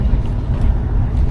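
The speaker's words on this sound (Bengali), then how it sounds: "আর কিছুক্ষণের মধ্যেই হচ্ছে আমাদের বোটটা ছেড়ে দেবে।" Engine rumble of a trawler boat about to depart on the Buriganga river, a steady low droning throb with water and wind noise, continuous and fairly loud throughout.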